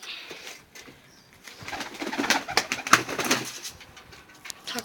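Pet breeding pigeons in a loft coo in soft, repeated throaty bursts, with some rustling and fluttering nearby. The calls are close and moderately loud.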